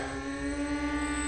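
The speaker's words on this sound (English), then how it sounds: "Love this plane." RCP Raptor RC model airplane with LE slats on its maiden flight, running on a small 1000 mAh battery: a steady, high-pitched electric motor whine holding one tone for a brief moment, with no voices.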